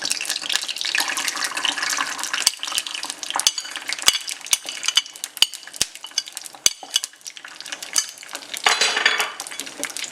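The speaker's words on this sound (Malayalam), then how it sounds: "നെയ്യ് ഉരുകി കഴിഞ്ഞിട്ട് ഇനി അതിലേക്ക് നമുക്ക് തേങ്ങാക്കൊത്ത് ചേർത്ത് കൊടുക്കാം." Dried coconut pieces fry in melted ghee for unniyappam, a soft sizzle broken by frequent sharp clicks and scrapes of a spoon stirring against the pan, close and uneven.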